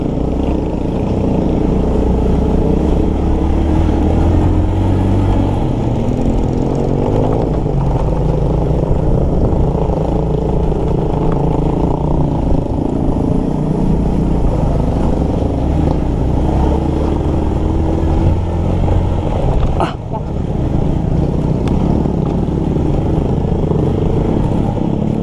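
Motorcycle ride on the way to a rural barangay, a steady droning engine with road and wind rumble running continuously and loud, a brief dip and clatter partway through, no talking.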